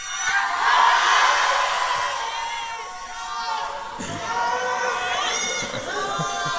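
A student crowd in a New Delhi college auditorium cheers and shouts loudly, a swelling roar of voices that dips and surges again.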